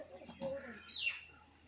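Wild pigeons perched on a shrine roof give faint, distant coos and short chirps outdoors, heard briefly among soft background sound.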